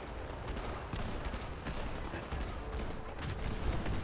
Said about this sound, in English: They're actually like shooting me with their guns right now, and it's hurting.